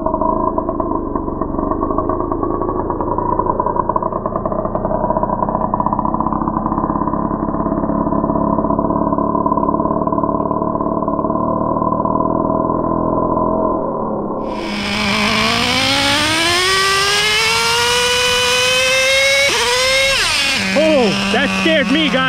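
A Traxxas Revo John Deere Edition RC truck with a fuel engine, two-speed transmission and forward-only drive buzzes in a steady close drone, then revs into a loud, sharply rising whine through acceleration and the gear shift.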